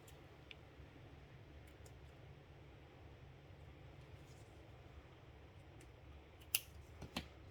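Scissors cut card-making material for a sliding-closure tulip card, a few quiet, sharp snips near the end over a faint steady background hiss.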